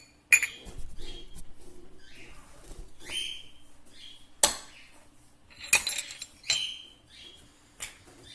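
A knife used for spreading peanut butter clinks sharply against a container, a scattering of bright metallic ticks and taps across an otherwise quiet kitchen.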